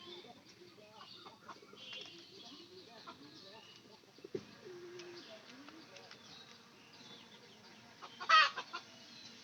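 Pigeons coo softly and intermittently indoors, among them a lame pigeon pulling straw, with faint rustling throughout and a brief louder flurry near the end.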